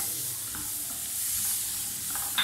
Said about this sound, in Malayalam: എന്നിട്ട് ഇതിനകത്തോട്ട് സവാള വഴറ്റിക്കൊടുക്കാം.